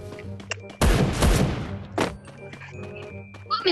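Two booming shotgun blasts from a video game, a heavy burst near the start and a second shorter one about a second later, with scattered game noises and faint talk around them.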